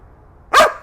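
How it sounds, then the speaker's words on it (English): A trained dog lets out a single sharp bark on command, loud and close, followed by the start of a second bark after a short quiet pause. "You might have to tease your dog quite a bit in order to get them to bark"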